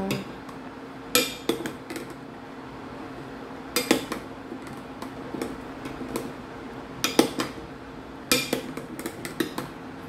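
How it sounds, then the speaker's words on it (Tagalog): Metal utensil clinking and scraping against a cooking pot while soup is stirred, sharp clanks arriving in irregular bursts with quieter gaps between, close and fairly loud, no voices. "Kailangan po natin haluin lagi kasi posibleng dumikit siya sa ating pot."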